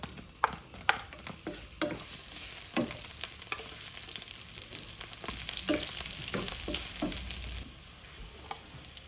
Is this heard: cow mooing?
no